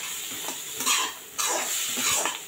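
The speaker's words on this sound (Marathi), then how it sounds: "वाटाणेसुद्धा छान ह्याच्याबरोबर मिक्स करून घेऊयात." Fresh peas are stirred into poha in a hot pan, two close, soft scraping sweeps of a spoon over a faint sizzle, with no voices.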